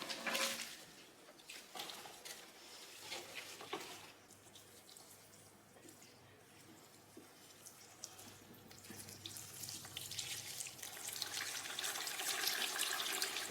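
Water pours from a tap or watering can onto a potted houseplant, a faint, continuous splashing and trickling with small drips that swells and eases over several seconds.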